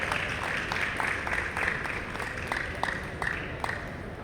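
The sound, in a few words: audience applause welcoming speaker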